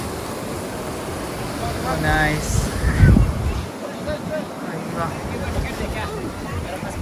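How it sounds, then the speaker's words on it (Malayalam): Ocean surf churns and swells around a boat riding the waves toward a Goa-bound shore, loud and continuous with buffeting wind on the microphone, and a voice briefly speaks over it. "ഇത് തിരമാലയല്ലേ? ഇത് തിരമാലയാണ്."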